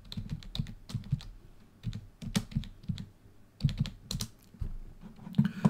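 Quick bursts of typing on a computer keyboard as ipconfig /all is entered at a Windows command prompt, crisp clicking keystrokes in uneven clusters with short pauses, close and fairly quiet.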